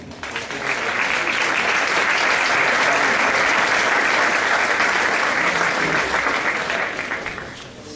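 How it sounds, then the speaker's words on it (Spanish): A room of listeners at a university talk applauds the incoming speaker, dense sustained clapping that rises quickly, holds evenly for several seconds and fades at the end. "le pido un aplauso, por favor"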